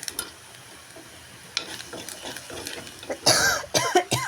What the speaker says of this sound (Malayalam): മൂന്ന് കൂട്ടിട്ട് നമുക്ക് ആ സ്പൂണ് ചൂടായി നന്നായി ഒന്ന് ഇളക്കി കൊടുക്കാം